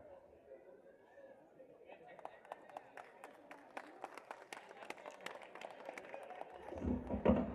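An audience claps to welcome a host at a Hindi-language stage event, with scattered, fairly faint claps that thicken into a patter of applause before a louder burst at the end.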